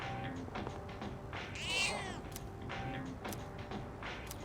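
A cat meows once in the Persona 3 Reload video game, a rising-falling mew over soft background music and faint game clicks.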